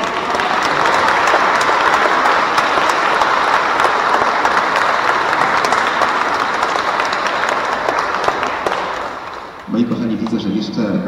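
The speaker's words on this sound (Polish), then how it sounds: "także gorące brawa również dla nich" Warm applause fills a church hall after a children's nativity play, a loud dense rush of clapping from a large audience that fades near the end as a voice begins to speak.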